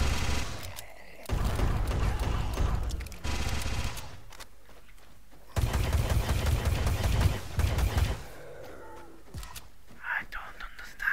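Shotgun blasts in the video game Project Warlock 2, fired in bursts of heavy booming shots at point-blank range with game effects around them, separated by quieter stretches.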